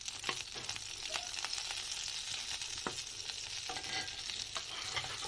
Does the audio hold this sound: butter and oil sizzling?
yes